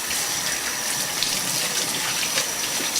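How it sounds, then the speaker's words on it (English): Continuous close rush of running tap water in a kitchen while hands are washed, a steady bright splashing with no talk. "Okay, so I'm going to wash my hands."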